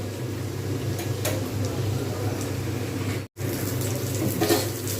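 Rohu fish roe fritters fry in a frying pan, giving a steady, close sizzling hiss over a low hum that continues throughout, with one brief dropout partway through.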